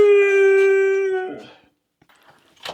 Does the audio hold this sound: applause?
no